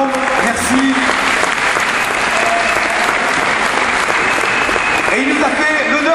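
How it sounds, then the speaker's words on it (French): Crowd applause at a 2009 centenary celebration of the Jeune Garde in Eloyes, a loud sustained wash of clapping with a voice talking over it. "Mesdames, messieurs, je vous demanderai d'applaudir M. Girardot qui nous rejoint"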